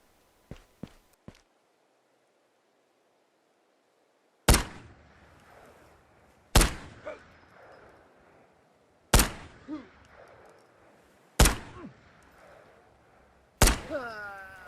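Tokarev TT-33 pistol shots ring out in the Ghosts of Tabor VR game, five loud, sharp reports spaced about two seconds apart, each with a short echoing tail, after a few faint clicks of handling.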